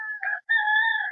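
A rooster in a breeding pen crows up close, one loud clear call with a short break partway through.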